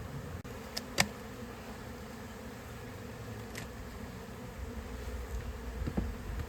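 Honeybees at an open beehive during frame inspection, a faint continuous buzzing hum beneath a few light clicks and taps of hive handling.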